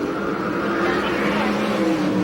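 USAC/CRA sprint cars race on a dirt track at Perris, California, their engines droning loudly and steadily beneath a race announcer's running commentary.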